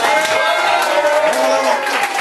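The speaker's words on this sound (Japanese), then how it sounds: "千葉から来てるみどりさんに大きな拍手" Loud, dense clapping and crowd noise from an audience at a small live music show, sustained without a break and close to the microphone.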